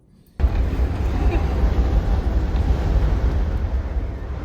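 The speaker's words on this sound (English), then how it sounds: "We just feel the pod shaking and we can hear the wind rattling." Loud, rumbling wind suddenly buffets the microphone inside a shaking hotel pod in Patagonia, a constant low roar with gusty fluctuations that continues without pause.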